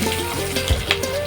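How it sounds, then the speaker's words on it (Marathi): Mustard seeds, cumin and crushed garlic sizzle in hot oil for a Maharashtrian leafy vegetable dish, a close, steady frying hiss with occasional small pops. "मोहरी तडतडली की जिरे घालून घेऊया"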